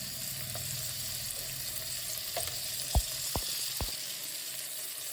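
Crab with turmeric, salt and chilli powder sizzles steadily in hot tempering oil, with a few sharp clicks and knocks from stirring against the pan.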